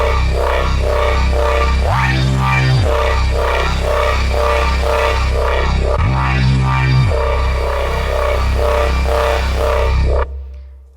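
A Pigments synth patch on an Arturia AstroLab keyboard pulses in a loud, rhythmic sequenced pattern over a thick low bass, with two deep swooping drops mid-phrase before the sound cuts off.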